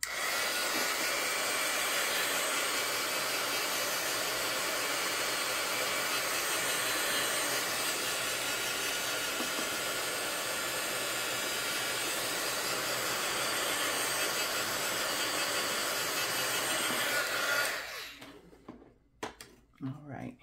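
A steady, loud airy hiss of drying air blows over a sealant coat on a board, holding constant for about seventeen seconds before cutting off into a few scattered handling noises.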